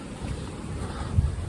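Steady, blustery wind roars and buffets the microphone on a snowy mountain in the Smokies, with low rumbling gusts and no other distinct sounds.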